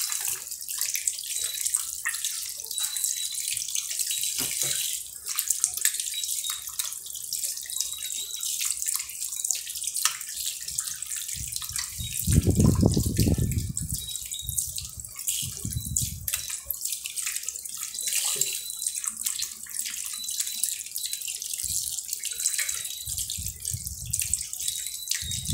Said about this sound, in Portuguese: Vou lavar e colocar naquela água do limão que mostrei para vocês